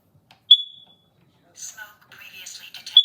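A smoke detector being tested gives one sharp, short electronic chirp, then falls silent before a voice talks and a second brief beep sounds at the end.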